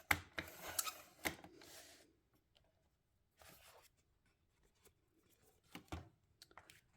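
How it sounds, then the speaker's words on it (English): A paper trimmer cutting scrapbook paper, with a quick scraping slice and clicks at the start, then a quieter pass and a few more sharp clicks and rubs later, close up against near silence. "we're going to go ahead and trim this one just like we did the last one"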